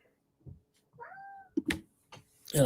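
A cat meows once, a short rising tonal cry heard near and fairly clearly, set among a few soft knocks and rustles, with a louder burst of noise at the end.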